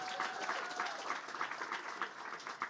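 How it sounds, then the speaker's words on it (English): Audience applause at a tech demo day, a moderate crowd clapping evenly and continuously at medium distance, with a faint tone running beneath the clapping. "Let's give our fellows another round of applause."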